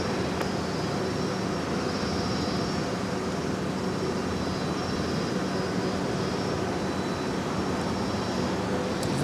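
A Delta jet airliner pushed back from its gate at Minneapolis–St. Paul Airport Terminal 1, giving a steady, loud broadband engine roar with a constant whine that holds without a break.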